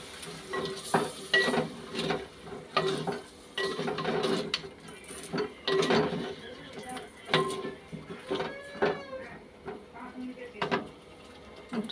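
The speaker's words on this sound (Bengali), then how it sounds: "ভালো করে এখন মশলাটা কষিয়ে নিই।" Spice paste being stirred and fried in a pan, with a steady sizzle broken by repeated scraping and clinking of a utensil against the metal.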